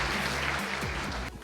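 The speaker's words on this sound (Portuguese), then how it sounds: "Salva de palmas para o Danilo da CPFL." An audience at a corporate fleet-management event gives a sustained round of clapping, a dense, even wash of many hands that carries on throughout and dips slightly near the end.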